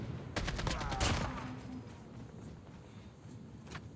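Gunfire in the Call of Duty Mobile video game: a quick burst of several shots early on, then a quieter stretch of soft game ambience.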